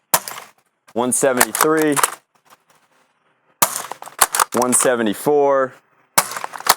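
Sharp pops from a Dart Zone Pro MK-1 foam dart blaster firing half-length darts through a chronograph, a few single shots spaced seconds apart between bursts of nearby speech.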